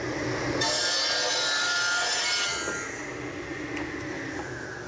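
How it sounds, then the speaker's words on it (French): Wood being cut with a saw for a loudspeaker cabinet in a workshop: a loud, continuous rasping whine that intensifies for about two seconds, then drops to a steadier machine drone. "Tout commence donc avec la découpe, et là, en revanche, mieux vaut se boucher les oreilles."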